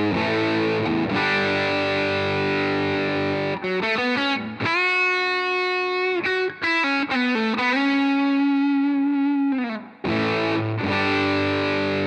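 Electric guitar runs through a Wampler Euphoria overdrive pedal cranked high into a clean Dream 65 amp, giving loud, hairy, fuzzy sustained chords and bending single notes, close and unbroken with no talking.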